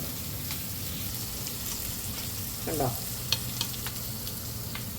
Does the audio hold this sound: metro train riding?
no